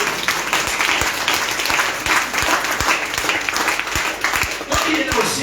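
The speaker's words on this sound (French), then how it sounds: "Acclamez très fort pour lui." A church audience in a French-speaking congregation applauds and cheers for a boy, with loud, steady clapping from a crowd filling the whole stretch and a voice speaking over it.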